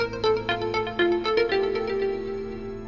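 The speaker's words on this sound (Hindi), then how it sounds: "मेरे फोन की घंटी बजी" A melodic phone ringtone plays on its own, a quick sequence of bright electronic notes repeating at a steady pace, fairly loud and close.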